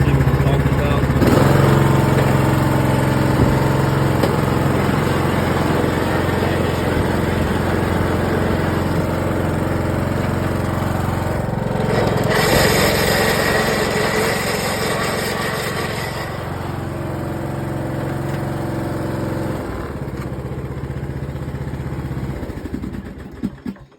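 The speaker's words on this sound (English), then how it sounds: "there's a loud whining whenever you're driving it. So what we're going to do, we're going to go ahead and start this unit up." A Troy-Bilt Pony 42B riding lawn mower with a variable speed pulley fault runs close by, its engine droning steadily under a loud, persistent whine that shifts slightly as it moves.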